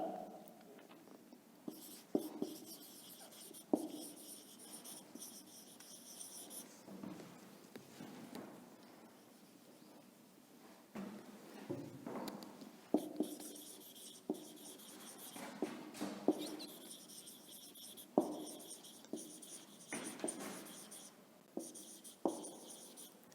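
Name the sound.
chalk or pen writing on a board during a lesson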